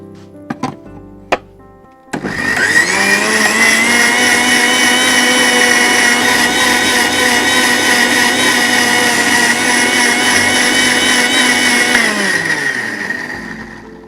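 An electric grinder churns soaked poppy seeds into a paste, a few clicks followed by a loud, steady whirring motor run that winds down at the end.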